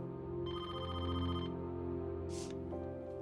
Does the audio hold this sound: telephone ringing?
yes